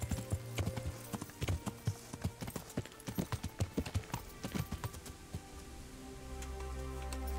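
Horse hooves clip-clop steadily on the ground while riding in the video game Kingdom Come: Deliverance, a close rhythmic trot that fades toward the end under a rising rumble.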